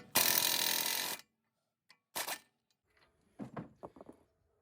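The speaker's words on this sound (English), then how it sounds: "Now we're going to hit this center nut here, 36 mil." Tool work on the 36 mm center axle nut of a 2013 Honda CR-V: one loud, buzzing burst lasting about a second, then silence broken by a short rattling burst and several quick metallic clinks.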